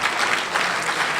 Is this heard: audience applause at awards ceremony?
yes